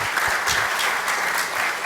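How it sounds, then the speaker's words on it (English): An audience at a men's ministry hunting and fishing event gives a round of applause, with loud, close, continuous clapping of many hands with distinct individual claps standing out. "Let's give a big round of applause to Daryl and Mike and all the folks"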